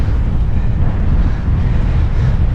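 Strong headwind buffeting a cyclist on open, treeless Eyre outback pastures, a continuous loud low roar of wind rushing past the microphone with no other sounds.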